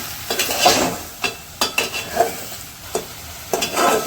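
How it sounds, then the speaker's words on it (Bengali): Vegetable curry with dried shrimp is stirred and fried in a pan, with a steady sizzle broken by repeated scraping stirs and clinks of a spoon at close range, and no talking. "তরকারিগুলো এখন হচ্ছে ভালো করে কষানি তরকারি করতেছি"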